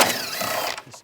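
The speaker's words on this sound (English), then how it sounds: "Now we're going to take these bolts out. Use a 10mm socket." A ratchet fitted with a 10mm socket backs out bumper bolts on a 2008-2017 Buick Enclave, giving a close, rapid burst of clicking that lasts about a second before tailing off, with no talking.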